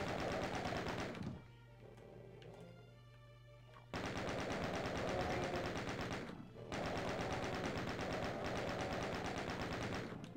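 Rapid continuous gunfire in Doom, dense loud bursts of shooting filling most of the stretch, broken by a short lull with fainter game sounds before the firing resumes.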